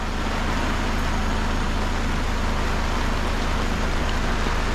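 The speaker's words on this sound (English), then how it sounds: "look at it raining, bloody horrible" Steady outdoor rain falls hard and continuously, a dense even hiss with a low rumble beneath it and no pauses.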